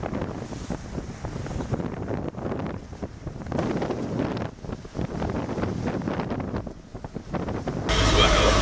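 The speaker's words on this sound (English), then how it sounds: "The next morning we set off in some choppy seas around the top of the Isle of Gia, across the Sound of Jura and up into the Sound of Islay." A sailboat pushes through choppy seas around the Isle of Gigha and the Sound of Jura, with a steady rush of wind buffeting the microphone over the wash of water, loud and continuous, and a faint voice underneath.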